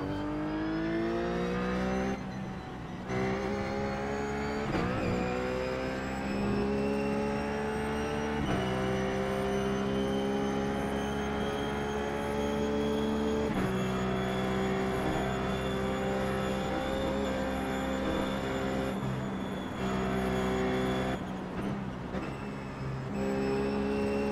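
A Ruf race car in iRacing at VIR (Virginia International Raceway), its engine droning loud and steady through long rising pulls, broken by brief gear-change dips, with no one talking.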